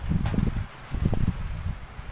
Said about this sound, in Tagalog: Yan, malakas yung hangin.